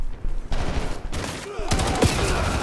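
Video game SMG fire comes in choppy bursts of rapid shots, loud and close, broken by short gaps and mixed with other game sounds.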